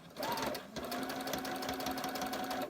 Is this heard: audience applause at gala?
no